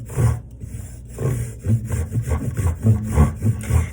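A hand rasp grates along the edge of a wooden piece in a steady run of rough, close-up strokes, roughly a dozen rasping scrapes repeating at an even rhythm with no talk.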